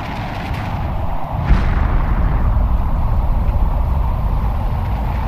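Rocket launch in The Planet Crafter game, a loud sustained roar with a sharp blast near the middle followed by continuous rumbling explosions, dense and booming throughout.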